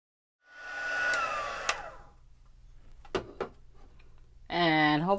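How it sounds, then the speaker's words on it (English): A heat gun warms ink on stamped handmade craft coasters during heat embossing, blowing a steady airy whir that fades and returns, broken by a few sharp clicks, with a voice speaking at the end. "So we're going to go ahead and heat emboss this."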